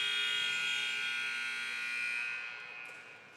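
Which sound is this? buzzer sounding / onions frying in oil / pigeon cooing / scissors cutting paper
buzzer sounding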